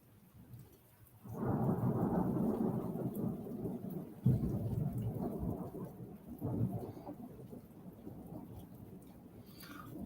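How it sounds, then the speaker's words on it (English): A deep, rolling rumble of thunder from an overhead storm breaks in after a quiet start, swelling loud and holding with a couple of renewed booms before slowly fading, with faint rain beneath. "Can you hear that rumble of thunder I just had then?"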